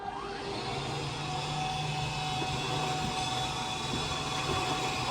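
Electric motor of the bed lift in a 2023 Thor ACE 29D motorhome running steadily as the bed lowers, a continuous even hum with a faint whine, close and moderately loud with no talk.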